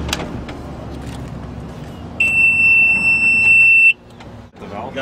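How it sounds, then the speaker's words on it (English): A loud, steady high-pitched electronic alarm tone from a fuel polishing filtration unit sounds for about two seconds over machinery hum, then cuts off abruptly. "That resets the alarm."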